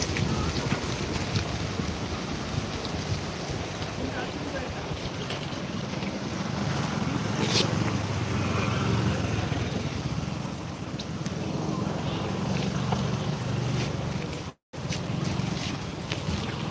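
Water rushes continuously over a small waterfall in Krishnagiri, a dense, steady roar with some gusty outdoor noise and no letup.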